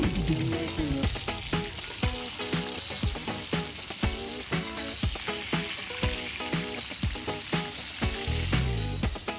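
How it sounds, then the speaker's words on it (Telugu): Chicken pakoda fries in hot oil with a loud, continuous crackling sizzle, broken up by many sharp pops and spatters throughout, close up and with no talking. "చాలా మంచిగా ఫ్రై అవుతున్నాయి."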